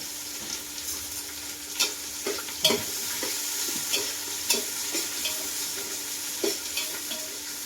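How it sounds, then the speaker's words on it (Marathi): Chopped onions sizzle in hot oil in a pan while biryani is being made, a steady close frying hiss broken by repeated sharp stirring scrapes and clinks. "कांदा तेलामध्ये तळ्या टाकला होता भाजायला"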